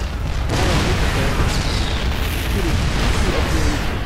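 Siege tank artillery fire in a StarCraft match: dense, continuous booming and bursting explosions rumbling loudly throughout, with sharp pops layered over a constant low roar.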